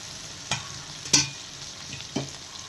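Raw banana pieces with turmeric are stirred in a hot pan, giving three distinct scraping clatters of the spoon over a faint, steady sizzle, with no voices.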